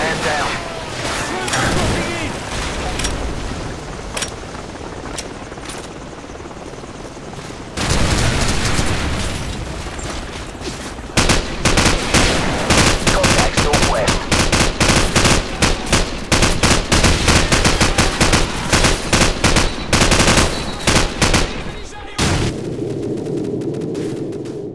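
Gunfire in the video game Call of Duty Modern Warfare: loud, close bursts of rapid automatic fire and booming shots build into a dense, sustained barrage, with voices speaking amid the shooting.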